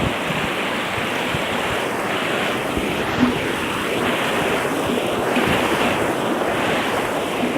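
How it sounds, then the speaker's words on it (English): Steady broadband rush of water flowing at Janailar Falls near Cherrapunji (Sohra), Meghalaya, a continuous roar with faint wind noise and no voices. "This water flow is too beautiful."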